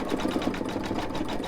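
Embroidery machine stitching eyes onto a Dollar Tree potholder, a steady rapid needle chatter with fast even pulses running continuously at close range, no voices.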